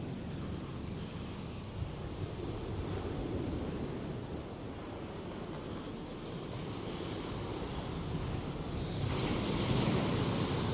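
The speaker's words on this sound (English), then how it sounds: "This part takes us out onto the beach again." Waves washing on Aberdeen Beach with steady wind buffeting the microphone, a constant roar that swells louder toward the end, no voices.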